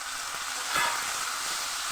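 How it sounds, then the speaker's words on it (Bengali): Spices with cumin, coriander powder, dried chilli, bay leaf and a large tomato fry in a pan, giving a steady bright sizzle that rises briefly as they are stirred. "ভালো করে আমি মশলাটাকে ভেজে নেব"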